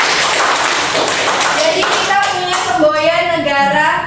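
A primary school class applauds in an Indonesian classroom. A dense burst of many hands clapping is followed by a steady rhythmic group clap, loud and close, with children's voices chiming over it.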